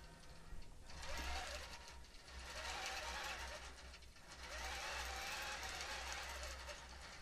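A quilting machine stitches a minky border on a quilt, its needle drive making a steady, close mechanical whir over a low motor hum that briefly eases twice before running on.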